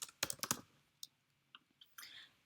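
Quiet, close computer keyboard typing while coding: a quick cluster of clicks, then a few sparse taps spread out over the remaining couple of seconds, with no talking.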